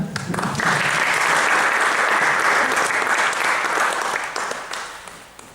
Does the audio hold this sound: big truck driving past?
no